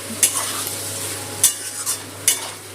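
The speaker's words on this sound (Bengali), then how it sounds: "জলটা দিয়ে আর একটু মিনিট মতো মিশিয়ে নেব মশলাটা" Masala with a little water stirred in a pan for fish roe fritter curry, where three quick spoon scrapes cut over a soft, steady simmering sizzle, close up with no talk.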